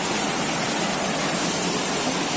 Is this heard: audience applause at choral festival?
no